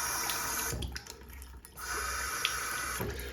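A bathroom tap runs steadily with a hissing stream of water, briefly dropping and breaking up midway before flowing again, close and moderately loud.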